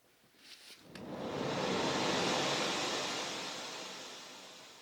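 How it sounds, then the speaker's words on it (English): A recorded ocean-wave sound effect plays back as a steady, rushing wash of surf that swells in after about a second, peaks, then slowly recedes. No voices are heard. "Okay, so those were the waves"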